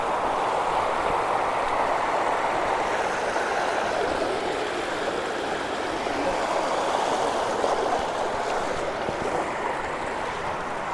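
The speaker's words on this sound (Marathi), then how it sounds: "इथून वरून सगळं पाणी येतं आहे इथपर्यंत" The Adai waterfall near Panvel pours down in heavy monsoon rain, a dense and steady roar of rushing water that stays constant throughout, with no voices.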